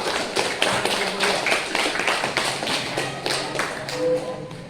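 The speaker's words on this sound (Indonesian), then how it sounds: "Tepuk tangan untuk kelompok 1" A classroom of students clapping for a presenting group during a teaching session, a busy, continuous patter of many hands at close range, fairly loud throughout.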